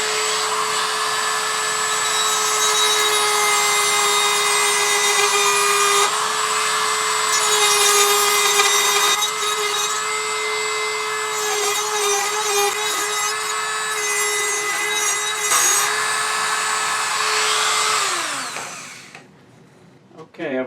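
A power carving tool cuts flutes into a wooden turned pot, a steady high whine with gritty grinding that holds for nearly twenty seconds and then spins down and stops.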